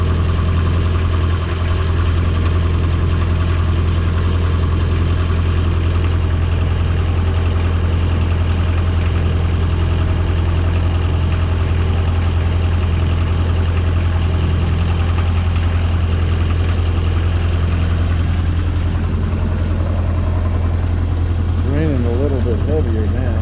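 An older mower engine, freshly changed to dino oil, runs steadily at idle on an Exmark/Hustler-type zero-turn, a constant loud low drone throughout with a brief wavering tone near the end.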